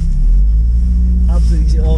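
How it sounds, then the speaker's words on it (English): Modified exhaust on an Audi S3 8V giving a loud, deep, steady idle rumble close by, with a brief higher rev and crackle near the end. "the exhaust is on and it sounds fucking awesome"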